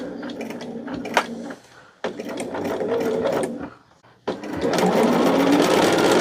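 A sewing machine stitches through fabric in close, loud runs, its motor whirring and needle chattering in three stretches separated by brief pauses.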